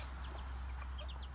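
Chickens in a backyard coop cluck and chirp softly in short, scattered calls over a constant low hum.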